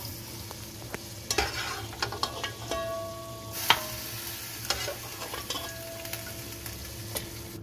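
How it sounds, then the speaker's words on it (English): Thick lamb trotter and sugar bean curry is stirred in a pot with a spoon, scraping and clinking against the sides over a soft sizzle, in irregular strokes. "So we'll give that a quick mix."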